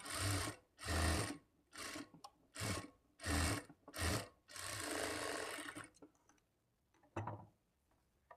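A sewing machine stitches lining cloth for a blouse in several short rapid bursts separated by pauses, ending with a longer run and a few light clicks as the fabric is adjusted.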